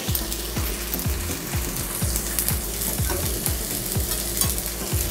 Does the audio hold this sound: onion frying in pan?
yes